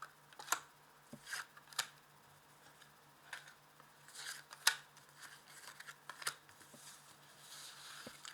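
Tarot cards are drawn and handled in a quiet room, with faint, scattered crisp flicks and paper snaps spaced a second or so apart over a low hum.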